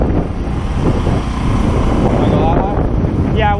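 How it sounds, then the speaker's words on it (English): Cold wind buffets the microphone aboard a bowfishing boat at night, a loud, rumbling, gusty roar with a boat engine churning underneath throughout. "I want to fucking get out of this wind first."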